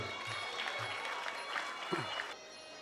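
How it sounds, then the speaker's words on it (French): Moderate applause from spectators at a national Muay Thai championship bout before the first round, continuous clapping heard slightly distant for about two seconds before cutting off, with faint crowd murmur. "Le premier round, applaudissements s'il vous plaît."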